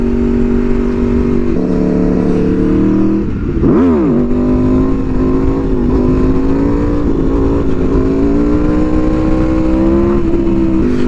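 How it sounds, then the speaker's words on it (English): An Aprilia motorcycle engine drones loud and close while riding, its pitch dropping sharply as the throttle is chopped, then climbing and holding again. "You chop the throttle and it really chops."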